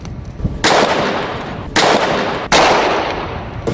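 Loud close-range gunshots are fired at nanocomposite aluminium armour: four sharp, booming blasts at uneven intervals, each ringing out briefly before the next.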